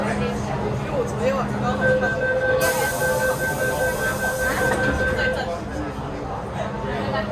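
A first-generation MTR Metro-Cammell CM-Stock M-Train (A161/A162) with SACEM signalling runs on Hong Kong's Island Line between Kennedy Town and Chai Wan. A steady cabin rumble carries a rising and falling motor whine, with a brief bright hiss midway.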